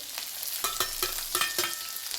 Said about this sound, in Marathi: कढईत तेल घ्यायचे तेल कडाडून तापलं की छानपैकी त्यामध्ये टाकायचे